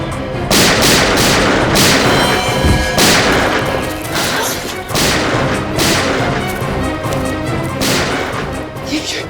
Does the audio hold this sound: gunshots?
yes